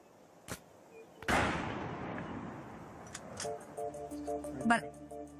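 A single sharp rifle shot fired during a ballistics test on a range, a loud crack with a long decaying rumble, set among sparse voices and a few fainter clicks and tonal beeps.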